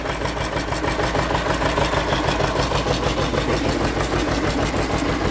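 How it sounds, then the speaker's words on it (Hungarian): A Dutra UE-28 tractor engine idles steadily up close, with a loud, even, rhythmic chugging that runs throughout. "Gyönyörűen jár a motor"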